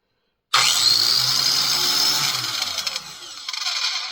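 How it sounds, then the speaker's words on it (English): A homemade tungsten grinder switches on abruptly after a moment of silence and settles into a loud, close, steady high whine with a low motor hum beneath. "Turn the grinder on."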